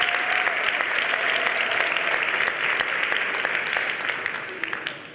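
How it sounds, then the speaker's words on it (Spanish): Audience applause for a panel of experts at a conference session, dense crisp clapping from many hands that holds steady and then starts to taper at the end. "Otro aplauso para ellos."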